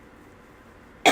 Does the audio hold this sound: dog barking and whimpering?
no